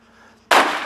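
A Barrett M107 rifle fires one sharp, loud shot in Arma 3, a sudden blast with a short ringing tail after a near-silent lead-in.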